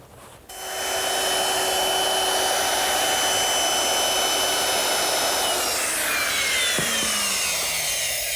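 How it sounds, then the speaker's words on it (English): A router fitted with a half-inch radius roundover bit eases the edges of a wooden umbrella-stand shelf: a loud, steady high whine that starts abruptly and holds for several seconds before spinning down, with no talk. "I'm using a 1/2-inch radius round over bit just to ease the edges of the shelf"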